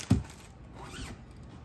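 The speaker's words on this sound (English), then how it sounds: "They have the zipper on the bottom." A zipper on the bottom of a gray fabric sock drawer organizer makes one quick, close zip near the start, followed by faint handling rustle in a quiet room.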